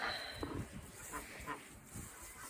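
Faint honking and quacking of ducks at a distance, a few scattered calls over a steady outdoor hiss.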